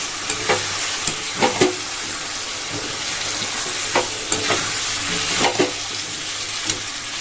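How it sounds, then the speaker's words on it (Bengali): Chicken in yogurt with ground black pepper sautéing in a pan, a steady close sizzle broken by a few sharp scraping stirs, with no talk. "এবার এটা আস্তে আস্তে আর কি ভালো করে কষাবো"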